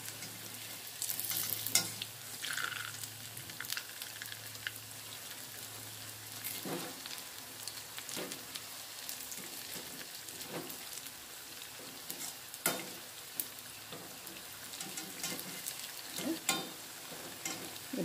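Pakkavada, a crisp fried snack, frying in oil over a medium flame gives a soft, continuous sizzle broken by occasional sharper crackles and stirring clicks, fairly quiet and close with no voices.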